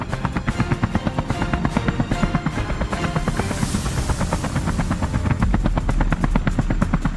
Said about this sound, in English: helicopter blades roared, the signal that we were ready